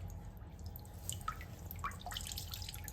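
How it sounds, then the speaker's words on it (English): Water dripping off a soaked Carhartt winter glove after it is squeezed, a few faint separate drips and trickles over a low steady background hum. "Just get all that excess dripped off."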